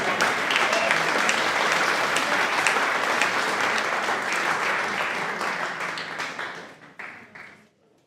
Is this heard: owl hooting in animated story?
no